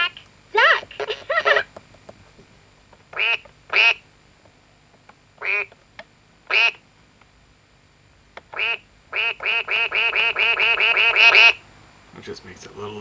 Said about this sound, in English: Quack, quack, duck!